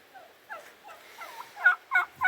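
A series of turkey gobbles, several rapid warbling calls that grow louder toward the end, close by with no talking.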